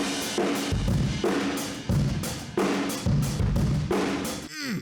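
A drum kit picked up by a Neumann U87 room mic set about ten feet away and heavily compressed, a dense, loud groove of kick, snare and cymbals pumping steadily for several bars with sustained room wash between hits.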